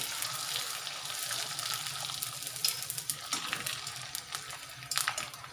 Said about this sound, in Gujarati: આપણે તેલ આવી ગયું છે તો આપણે એમાં પાપડ એડ કરીશું.